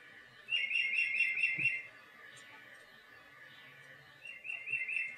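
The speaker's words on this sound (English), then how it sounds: "That's our bird clock going off." A bird clock sounds the hour at eleven with bursts of recorded birdsong chirps, one longer and one shorter, in a quiet indoor room.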